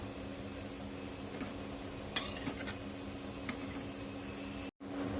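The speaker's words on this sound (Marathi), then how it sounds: "मी आता भाजी घालणार आहे यामध्ये म्हणजे छान असं मिक्स करून घ्यायचंय त्याला" Chickpea greens (harbara bhaji) being stirred into sautéed onions and chillies in a pan, with soft scraping and a few sharp utensil clinks against the metal, quiet and close, over a faint background hum.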